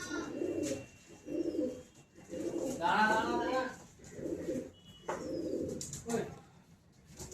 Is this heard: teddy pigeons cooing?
yes